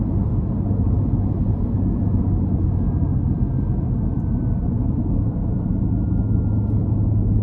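From inside a 2023 Dodge Durango SRT Hellcat with a supercharged 6.2 V8, a steady deep engine rumble under acceleration carries a faint thin supercharger whine above it, with no talk.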